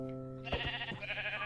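A Minecraft sheep gives a wavering, nasal bleat, quickly followed by a few sharp thumping hits, all fairly quiet and with no talking.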